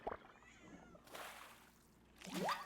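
A pet cat meows while begging for wet food, with a rising, drawn-out cry near the end, close and fairly quiet, and a brief soft meow at the start.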